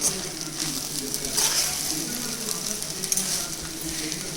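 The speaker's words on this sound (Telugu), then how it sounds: "ఇలా రైస్ కొద్దిగా కొద్దిగా వేసుకుంటూ కలపాలి." Cooked rice is stirred little by little into a sizzling tomato mixture in a pan, with a continuous close fry hiss and soft scraping stir strokes and no talk.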